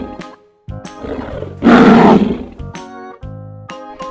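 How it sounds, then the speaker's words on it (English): A lion roars once, loud and close, as a deep rasping burst over a steady backing melody, framed by brief musical notes before and after. "Lion, the king of the jungle."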